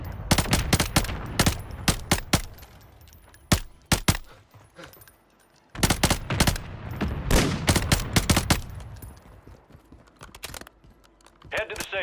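Sniper gunfire in a Call of Duty video game: a run of sharp, loud shots fires in quick clusters, breaking off briefly and resuming in another rapid string, with talk in the clip.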